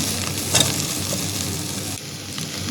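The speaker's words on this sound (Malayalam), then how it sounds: "മസാല കക്കായലോട്ടൊക്കെ പിടിച്ച് നല്ല പോലെ ഇതൊന്ന് ഫ്രൈ ആയിട്ട് വരണം." Clams frying in masala in a pan for a Kerala-style kakka fry give a steady close sizzle with occasional stirring scrapes, alone without talk.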